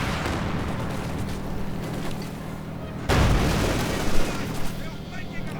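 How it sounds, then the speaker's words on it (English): A Pak-43 anti-tank gun fires in Company of Heroes 2: one sharp, heavy boom cuts through a dense wash of battlefield noise and rumble, followed by scattered smaller impacts. "Pak-43 opening up. Can it hit?"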